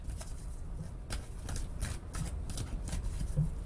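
Tarot cards being shuffled, repeated quick riffling flutters in irregular bursts, close by, with faint handling noise between them.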